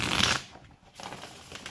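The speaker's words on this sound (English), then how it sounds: "all my tarot decks are always thoroughly pre-shuffled, but shuffling in camera is also very nice" Tarot cards being shuffled close up in a quick riffle, a burst of papery flutter at the start, a short pause, then more soft rustling and card snaps.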